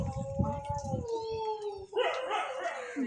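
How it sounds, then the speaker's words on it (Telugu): Dogs on a road howling and yelping, a long drawn howl gliding downward followed by sharper barks, fairly close but quiet, with a voice mixed in. "మా రోడ్డు మీద కుక్కలు కూడా అరుస్తున్నాయి."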